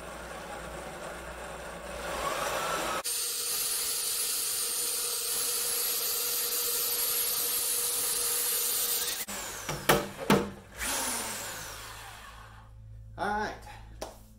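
A grain mill grinds malted barley for beer into a fine flour-like grist: a loud, steady whirring grind runs for about six seconds, then gives way to a few knocks and handling clatters.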